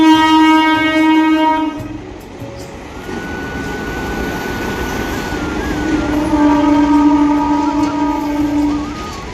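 A train at a railway station sounds its horn in long, loud, sustained blasts over a rumbling background, with a pause before the horn resumes.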